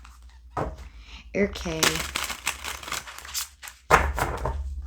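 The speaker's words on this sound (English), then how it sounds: "One more shuffle." Tarot cards being shuffled in a few quick riffling bursts of papery flutter and snaps, with a person speaking briefly.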